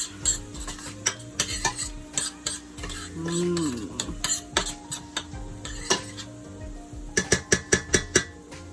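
Seasoning and garlic powder being mixed in a bowl with a utensil, giving quiet scraping stirs and sharp clinks against the dish, with a quick run of taps near the end, close and without voices.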